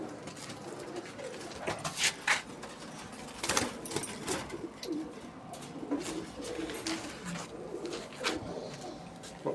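Soft, low cooing of a Chanda Khani Rampuri pigeon repeats throughout amid light rustling and a few sharper taps, fairly close with no voices.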